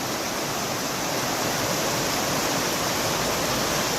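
A waterfall at Khao Laem National Park in Kanchanaburi pours steadily, a dense, even rush of water with no breaks, close and alone with no voices.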